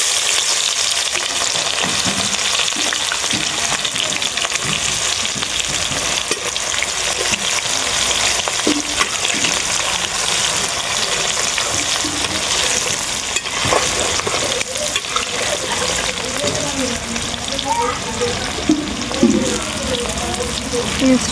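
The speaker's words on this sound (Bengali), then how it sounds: "এই তেলে আমি দিয়ে দেবো পেঁয়াজ কুচি। কড়াইতে আমি পেঁয়াজ কুচিটা দিয়ে দেবো এবারে।" Chopped onion fries in hot oil in a wok, making a loud, dense, close sizzle that roars on without pause for about twenty seconds, with occasional stirring noises over it.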